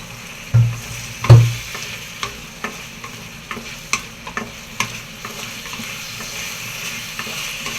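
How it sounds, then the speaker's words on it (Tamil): Eggplant sizzles in hot oil while a utensil scrapes and stirs the pan in a series of knocks, loudest at the start. "நம்ம கத்திரிக்காய் போட்டு வதக்கிறோம்"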